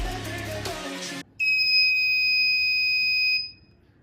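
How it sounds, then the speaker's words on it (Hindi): A buzzer on an RCWL-0516 microwave motion sensor circuit sounds one steady, piercing electronic tone for about two seconds, loud and close, then cuts off abruptly after a burst of other sound. "ऑन होने के बाद बीप करेगा ये।"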